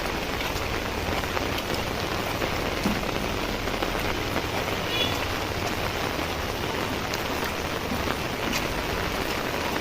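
Steady, heavy rain pours down onto surfaces nearby, a dense and unbroken wash of patter that keeps a constant loudness throughout, with no voices.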